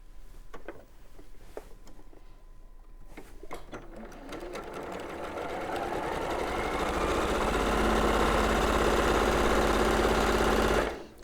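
A sewing machine stitching a batik fabric quilt log opens with a few short stop-start bursts, then settles into a continuous close, loud mechanical whirr that runs steadily before halting abruptly.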